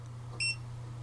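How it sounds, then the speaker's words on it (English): A RadioMaster T8L ELRS radio transmitter gives a single short, high electronic beep on a long press of its power button, clear against a faint steady hum. "and it'll make a little beep"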